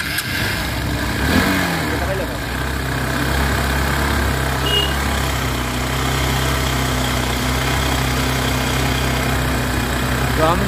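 A Honda Unicorn 150 motorcycle engine idles steadily and loudly up close, with a low continuous rumble throughout and a brief rise near the start, while being tuned for a morning starting problem.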